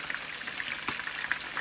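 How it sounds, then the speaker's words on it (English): Fish frying in a pan in its final crisping stage, giving a steady, soft crackle and sizzle throughout with a few brief louder pops. "And we're in the final stage of the frying."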